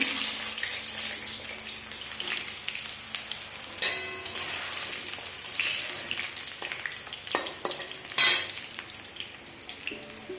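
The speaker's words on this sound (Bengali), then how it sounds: "তেলে এখন আমি আলুটাই ছেড়ে দেব তেলে আমি এইভাবে আলুটা ভেজে নিতে হবে" Potatoes frying in hot oil in a home kitchen, a steady broadband sizzle with a few clinks and stirring scrapes, a louder burst near the end, no talking.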